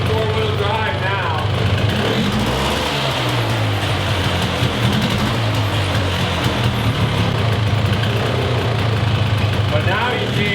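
A Polaris Xplorer ATV with an all-wheel-drive problem runs in gear, a loud steady engine drone with a low rumble and whine throughout, close up, with a voice talking over it.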